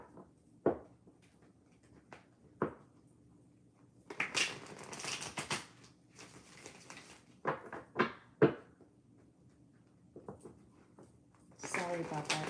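A deck of cards is shuffled during a tarot-style reading, with scattered taps and handling knocks and a couple of brisk riffling bursts near the middle and end of the passage.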